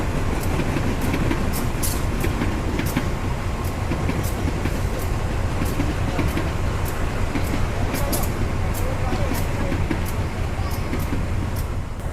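A passenger train rumbles past nearby in Indonesia, a loud continuous roar with steady rhythmic wheel clicks and faint high metallic squeals throughout.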